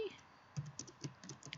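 Quiet typing on a computer keyboard: scattered, soft keystrokes and clicks in an irregular rhythm, close by in a calm room, with gaps between bursts.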